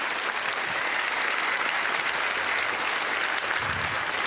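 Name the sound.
TV studio audience applause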